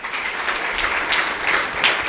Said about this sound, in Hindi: पुनः जोरदार तालियां